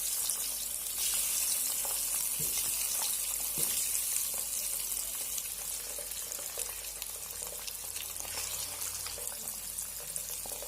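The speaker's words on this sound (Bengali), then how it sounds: "এখন আমি আলু আর ডিমগুলো এর মধ্যে দিয়ে ভেজে নেব।" Steady crackling sizzle of eggs and potatoes frying in hot oil, continuous and fairly close, with occasional soft clinks and no voices.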